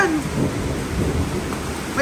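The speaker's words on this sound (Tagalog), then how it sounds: "Ay! Yan. May dalugdog pa." Heavy rain pours in a dense, constant hiss while a low thunder rumble rolls underneath during an evening storm, loud and steady with a few brief faint voices.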